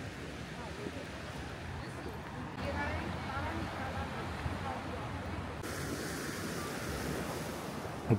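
Rough sea waves washing in at a harbour, a steady, continuous surf roar with wind buffeting the microphone throughout and a short thump at the end.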